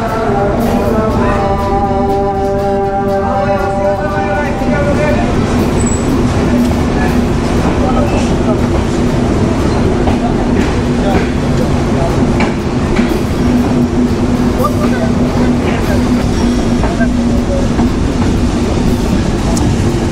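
The Padma Express rumbles steadily on its run from Sirajganj to Dhaka, heard from on board as a loud, continuous roar of wheels and carriage with a tonal hum and drone early on.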